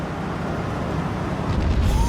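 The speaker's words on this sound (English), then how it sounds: "Well, cluster bombs are coming in now" Cluster bombs landing in a video game, a rumbling wash of blasts that swells louder toward the end, with no talking over it.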